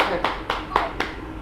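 Children clapping in a live online class: four short, evenly spaced claps at a steady beat, close and moderately loud, with no talking.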